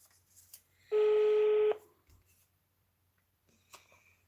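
A short burst of telephone keypad dialing tones, one steady sustained tone lasting under a second, clear and close, with faint background noise and a brief soft click afterward.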